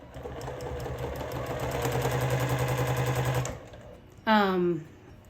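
A sewing machine set up for free-motion quilting runs steadily for about three and a half seconds with a fast, even needle chatter, then stops. A short rising squeak-like burst follows.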